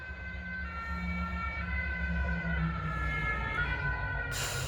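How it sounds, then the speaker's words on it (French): A fire engine siren wails steadily in the distance as the truck approaches an outdoor fire, its rising and falling tone sustained over low road rumble, ending with a sudden close noise burst. "Ah, il y a les pompiers qui arrivent, heureusement."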